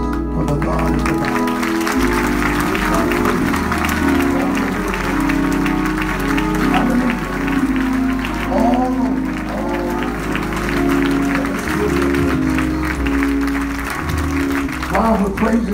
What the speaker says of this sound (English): would you clap your hands for the God of the Bible?